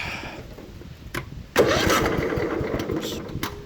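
A Poulan Pro riding lawnmower engine is cranked, with a soft whirring before catching abruptly and settling into a steady, close, rumbling idle.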